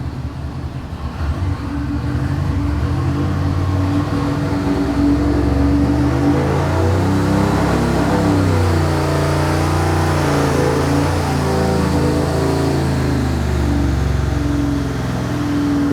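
A car engine on a dynamometer during a full throttle pull, rising from a low idle into a loud, sustained climbing roar that holds near full volume, with no talking.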